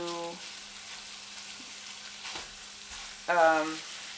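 Ground beef sizzles and crackles steadily in a hot pan, a dense hiss running throughout with brief voiced sounds at the start and near the end.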